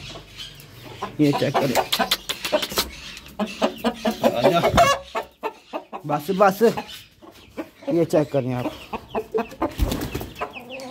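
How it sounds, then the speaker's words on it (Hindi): An Aseel rooster clucks and crows intermittently close by while people talk over it throughout. "एक ये मुर्गा है,"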